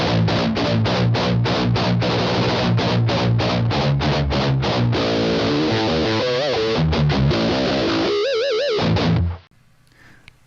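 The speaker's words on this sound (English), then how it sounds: "that was a Diamond Head Multistage Distortion plus Boost from Seymour Duncan" Electric guitar played through a Seymour Duncan Diamond Head Multistage Distortion plus Boost pedal: loud, saturated rhythmic chugging chords and riffs, then a bending sustained lead phrase before cutting to near silence.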